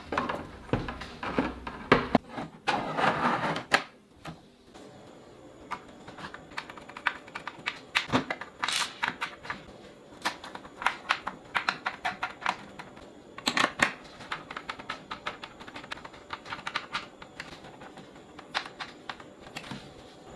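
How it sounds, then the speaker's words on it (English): Small screws being driven to secure an eGPU inside its main case shell, heard as a string of close, light clicks and scrapes with a few louder clatters, no voices. "Now let's slide the eGPU into the main case shell and secure it with the 6 screws."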